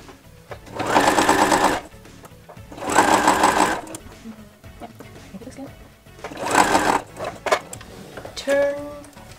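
Sewing machine stitching patchwork quilt blocks for a scrappy fabric dog, running in three loud bursts of rapid mechanical whirring separated by quieter pauses, with a brief higher tone near the end.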